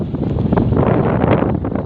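Strong wind roars steadily through a forest campsite at Doi Wao, Nanthaburi National Park, buffeting the microphone in a loud, continuous gust with no voices.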